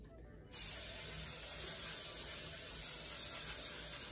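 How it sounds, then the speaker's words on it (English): After a brief quiet moment, a close, continuous hiss of aerosol baking spray onto a pan starts abruptly and holds steady to the end. "I'm gonna spray my pan with baking spray."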